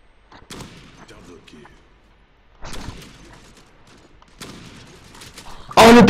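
Gunfire from a weapon in the online shooter game Zula comes in several separate shots and short bursts, ending in a very loud close blast, with a voice talking faintly in between.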